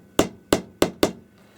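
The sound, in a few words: hammer tapping metal receiver case flat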